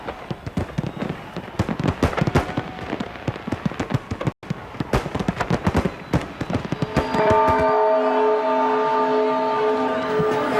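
A huge New Year's fireworks display over Copacabana beach in Brazil, with dense crackling bursts and booms from near and far, then a sustained musical tone rising over the noise.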